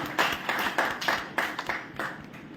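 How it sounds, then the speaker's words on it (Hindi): An audience at a Hindi poetry gathering claps in applause, producing a run of distinct, fairly rhythmic claps at moderate volume with slight irregular overlaps. "मैं चाहता हूं एक बार अपने स्वागत में, अपने अभिनंदन में तालियां बजा लें।"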